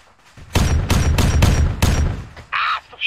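Arma 3 gunfire rings out as a rapid burst of about five loud, close shots in quick succession, followed by a brief higher-pitched whine or ricochet-like sound and another hit at the end.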